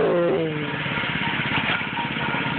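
A child's go-kart engine runs steady and close, a continuous mid-pitched motor drone with a brief higher whine at the start as the kart is driven along.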